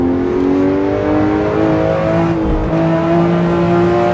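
A Porsche engine in the racing game Assetto Corsa pulls hard under acceleration, its steady rising drone loud and close with the revs climbing smoothly.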